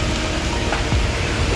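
Heavy monsoon rain pours steadily onto a street in Panvel, a dense continuous wash of drops with a faint rumble beneath and no voices.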